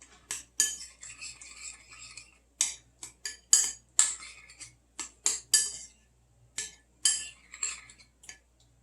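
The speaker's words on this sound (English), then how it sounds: "We're just going to mix this all together and kind of smash it up" Ingredients mashed and stirred with lemon juice in a bowl, an irregular run of clinking, scraping taps of a utensil against the dish, close and fairly loud, with brief silent gaps between strokes.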